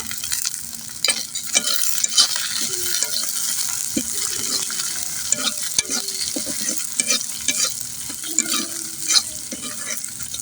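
Nuts and raisins frying with onion in hot oil in a pan, stirred steadily with a spoon; a constant close sizzle runs under repeated scraping and clinking strokes, with no talking.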